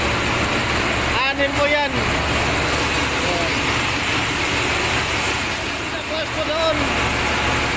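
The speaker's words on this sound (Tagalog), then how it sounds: "Umandar yung generator." A ship's generator runs loud and steady in an engine room during an engine overhaul, a continuous droning roar while someone talks over it.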